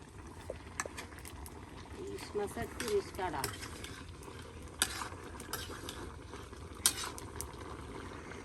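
A pot of hilsa fish curry bubbles at a steady simmer, a soft continuous burble with occasional clinks of utensils, fairly quiet and close.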